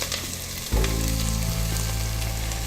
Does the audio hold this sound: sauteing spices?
yes